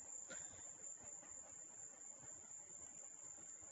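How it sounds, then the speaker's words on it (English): Crickets chirp at night in a faint, high, continuous trill that stays steady under a quiet background hiss, with no voices. "the Crickets seemed depressed on Tuesday night. Glad to hear them back at their best tonight."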